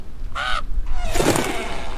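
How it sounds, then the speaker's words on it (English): Crows caw in the video game Boogeyman 2, one harsh caw followed by a louder, rougher burst, close and loud with no talking. "Stop it with the crows."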